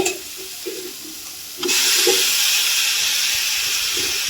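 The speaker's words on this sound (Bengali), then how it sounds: "কচু শাকটা একটু ভালো করে কষাতে হবে" Taro greens dropped into a hot pan with tomato and spices, starting with a quiet stir and then bursting into a loud, steady sizzle and hiss that continues close up.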